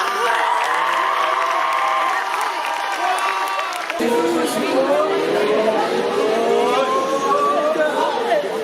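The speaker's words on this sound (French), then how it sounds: "On va applaudir bien fort nos 2 équipes." A school audience of students and teachers applauds two teams in a classroom quiz duel, loud clapping mixed with cheering, whoops and crowd chatter that grows fuller midway.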